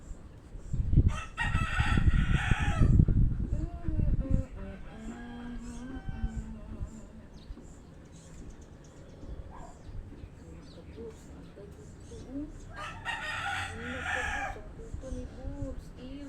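A rooster crows loudly near the start and again toward the end, with softer clucks and people talking in between.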